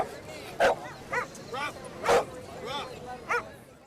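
Dogs playing together let out several short barks and yips at irregular intervals, with a couple of louder close barks among softer whimpery calls.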